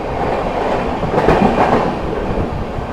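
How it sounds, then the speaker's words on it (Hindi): A goods train thunders past at speed on a busy line in fog, a loud continuous roar of wheels and wagons with rhythmic clatter, close by and with no talk. "ये तो खैर गुड्स ट्रेन है एंड अच्छी रफ्तार बनाई है यहाँ पर"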